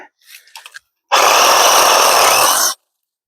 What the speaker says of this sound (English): Using the recip saw because it's easier to get in around the other branches than the chainsaw